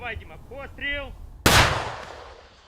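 A single loud gunshot or artillery blast cracks out close by during fighting in a Ukrainian counteroffensive near Orkhiv, then a long reverberating tail, after a brief stretch of tonal voice-like sound.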